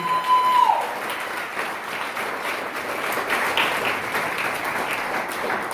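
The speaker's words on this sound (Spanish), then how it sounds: "Quisiera que le dieran un aplauso al Señor esta mañana" A church congregation applauds during a morning sermon, sustained broad clapping that stays loud and steady, with a brief tonal sound near the start.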